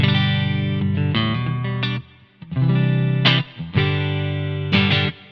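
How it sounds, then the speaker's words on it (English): Electric guitar chords through a Simplifier MK II ring out with a noticeable reverb tail, played in several strummed phrases with brief pauses between them, no voices. "we try to keep the reverb not very invasive, but not too subtle either"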